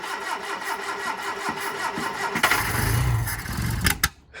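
A Hillman car engine cranks with a starter, then briefly catches and revs after a carburettor rebuild. It sounds close and loud, sputters near the end, and cuts out abruptly.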